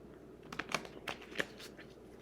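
Playing cards shuffled by hand at a table, a few short riffling bursts and snaps spread over a couple of seconds, fairly quiet and close, with no talk.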